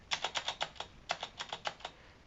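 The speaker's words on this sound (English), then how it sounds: "overall it definitely is a clicky keyboard" Presses on the HIWING HI300 one-handed mechanical gaming keyboard, a clicky board: about a dozen crisp, bright clicks in two quick rhythmic bursts with a brief pause between, close and alone.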